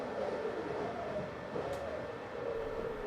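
A train ride heard from inside a carriage: a continuous low rumble of wheels and wagon noise, with a brief higher squeal midway and no talking.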